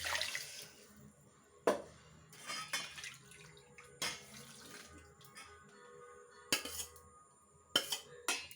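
Metal utensils clink and scrape against a vessel as groundnut chutney is moved into it, several sharp knocks scattered among quieter rustling and faint running-water-like background, close and moderately soft.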